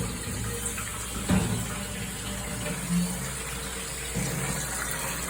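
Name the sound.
water running from tap to fill a container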